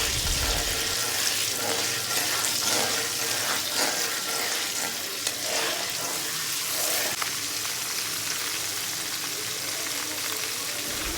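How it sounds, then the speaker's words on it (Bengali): Ginger garlic paste sizzles in a hot pan for a sweet, sour and spicy raw mango pickle. A loud, continuous frying hiss runs throughout, with stirring scrapes breaking through it now and then. "দিয়ে এটাকে ভালোভাবে কিছুক্ষণ একটু কষিয়ে নিতে হবে, যাতে কাঁচা আদা রসুনের ঘ্রাণটা না থাকে।"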